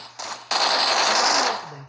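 Video game gunfire: a loud, close burst of rapid automatic shots that runs for over a second before cutting off, preceded by a couple of quieter shots, with no clear talking.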